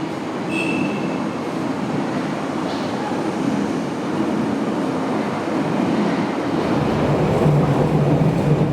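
Berlin U-Bahn F-type unit 2700, the only one of its kind on line U5, coupled between two refurbished F-type units, rumbles steadily close by with wheel noise and brief faint squeals, and no talk.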